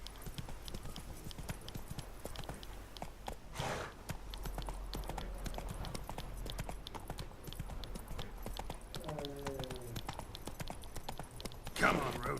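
Steady clip-clop of Roach's hooves in The Witcher 3, a continuous quick trotting rhythm under quiet game ambience, with a brief horse snort or whinny partway through and a voice speaking faintly.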